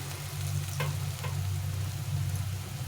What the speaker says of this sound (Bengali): আমি বড়াগুলো একবারে ভেজে নেব খুব ছাকা তেলে ভাজতে হবে না